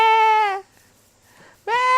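Two harmonic sheep bleats from Minecraft, a loud one lasting about half a second, then a gap of near silence with faint game noise, then a second bleat starting near the end.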